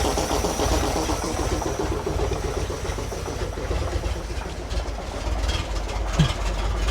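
An old 68-year-old REO dump truck engine idles roughly and barely keeps running, a steady low chugging rumble with uneven pulses that persists throughout at close range, with no talk over it.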